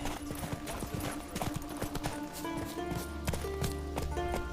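Roach, Geralt's horse in The Witcher 3, galloping with rapid rhythmic clip-clop hoofbeats, close and steady over game music and ambience.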